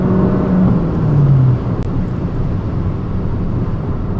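Fiat 500 Abarth accelerating onto a freeway on-ramp, a loud engine drone that rises in pitch before a gear change, then settles into steady road and engine noise from inside the car.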